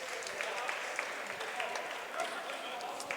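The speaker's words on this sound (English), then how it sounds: "Round of applause for those two teams." Applause at a Saturday pub quiz, a short, fairly quiet burst of steady clapping from the room with a few sharper individual claps standing out, lasting a few seconds.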